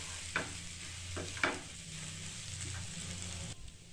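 Puffed rice (mudhi) upma stirred in a pan, a soft steady sizzle with a few light scraping strokes of the spoon, close but quiet.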